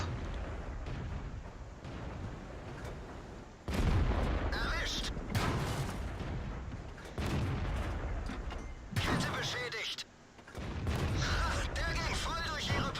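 Tank cannon fire in World of Tanks from a tier 4 Jagdpanzer IV tank destroyer, with several loud booming shots and explosions over steady game noise while someone talks throughout.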